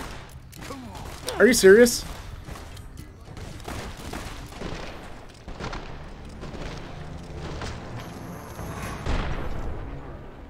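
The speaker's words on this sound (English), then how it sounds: "Why are you shooting me?" Gunfire in Fallout: New Vegas, a burst of shots loudest near the start against gangers, then continuing scattered pops and game noise beneath steady talking from a player.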